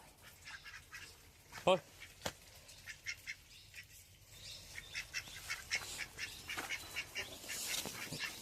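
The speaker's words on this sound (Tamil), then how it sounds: "இந்த வாத்து கூட்டத்தோட தொல்லை தாங்க முடியல எங்களுக்கு" Many ducks quack repeatedly in quick, overlapping bursts, some close and some farther off, while a person talks intermittently.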